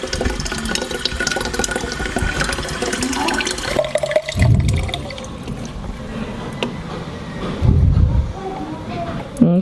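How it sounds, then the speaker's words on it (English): A household toilet flushed with saved water during a water shutoff, giving splashing, gurgling and running water with mechanical clunks and a couple of louder surges, while a person talks over parts of it. "we can at least flush the toilet so it doesn't get nasty"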